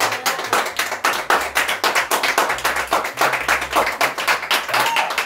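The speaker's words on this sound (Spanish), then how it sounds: "Solo una persona aplaude." One person claps steadily and rhythmically at a casual Christmas gathering, the sharp, evenly spaced claps close and fairly loud over a low background hum.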